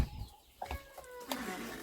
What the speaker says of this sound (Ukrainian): Курчата верещать